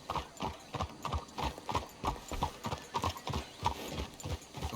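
Horse hooves clip-clop steadily in Red Dead Redemption 2, a regular rhythmic series of close hoofbeats from horses walking on, with no talk over them.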